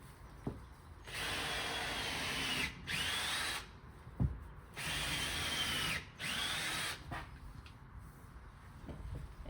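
A power drill whirs loudly in several long bursts boring into a hay bale, separated by short pauses, with a few knocks and handling sounds between runs.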